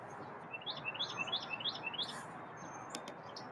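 Small birds chirp and sing in a backyard, a run of bright repeated tweets close together for about two seconds, then quieter scattered calls over a soft outdoor hiss.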